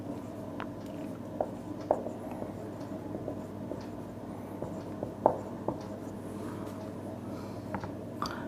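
Soft, faint scratching of a pen writing on paper during a Class 12 maths lesson on relations and functions, with a few light taps over a quiet, steady room hum and no voices.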